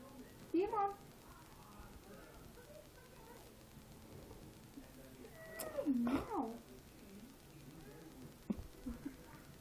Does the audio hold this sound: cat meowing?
yes